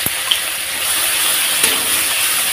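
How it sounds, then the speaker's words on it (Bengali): A little water poured into a pan of fish curry with koi fish, potato and eggplant, a short steady gushing splash heard close up with no talk. "দিয়ে দেবো একটুখানি জল।"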